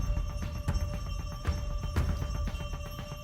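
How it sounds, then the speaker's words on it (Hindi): A phone rings in repeated electronic bursts over a low background hum, with no talking. "ये इतिहास का फोन है।"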